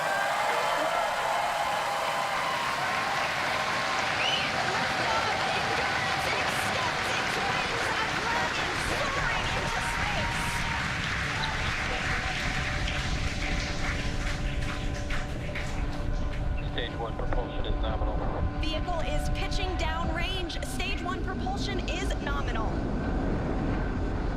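A SpaceX Falcon 9 rocket carrying a Crew Dragon capsule lifts off with a loud, sustained rumbling roar that crackles and builds throughout, while a commentator talks over it.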